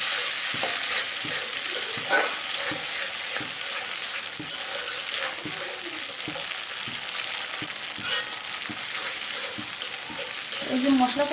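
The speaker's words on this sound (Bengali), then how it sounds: "কাজু বাদাম বাটা দিয়ে আমি ভালোভাবে মিশিয়ে নেব।" A thick masala with ground cashew paste is stirred in a pan for a prawn malai curry. A steady frying hiss sounds close, with a regular rhythm of spoon scrapes and taps throughout.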